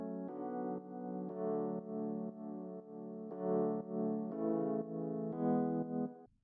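Rhodes and electric piano presets layered together in a dance drop, playing a steady series of sustained chords that change every half second or so, with stereo widening effects and no voices.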